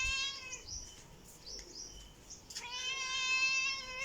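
A cat meows repeatedly in a home while milk is being set out for it at iftar time, with two drawn-out, nasal calls separated by a brief quieter gap, close and clear without speech.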